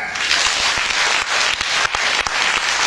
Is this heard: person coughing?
no